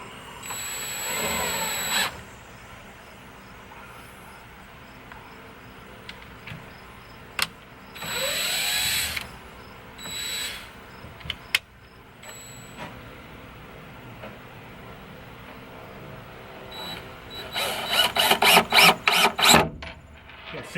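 A power tool drives screws into the top and corner pieces of a wooden shelf being built inside a Ford Transit van conversion, with several short bursts of whirring separated by pauses and a quick run of rapid pulses near the end.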